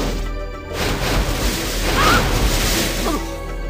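A burst of fire oil strikes in the fantasy role-playing game Return to Krondor, a dense whooshing, crackling blast that fills the short clip at close range with no talk over it.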